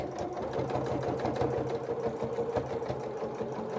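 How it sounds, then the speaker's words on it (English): A sewing machine reverse stitching coveralls over elastic hums in a steady, close, continuous whir of rapid needle strokes, with no talking. "just reverse stitch when we're over the elastic"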